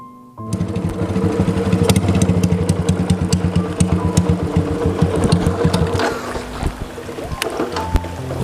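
A motorcycle engine runs with a rapid, rattling chug, loud and close, holding steady for several seconds before becoming slightly more uneven toward the end.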